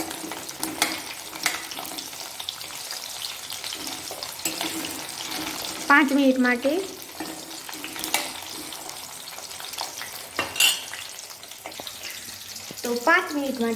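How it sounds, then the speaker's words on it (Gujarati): Onions frying in a pan give a steady sizzle with intermittent stirring scrapes and clatters, while someone talks briefly over the cooking. "અને હવે આ ડુંગળી એને પણ આવી રીતે તળી લઉં."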